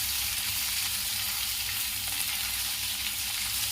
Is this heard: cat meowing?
no